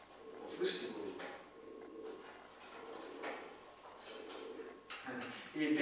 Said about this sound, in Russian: Вот голуби по подоконнику прыгают.